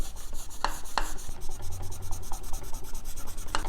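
A rag with polish rubs back and forth over a TIG-welded aluminum weld, a close, continuous scrubbing and rasping with a few sharp clicks.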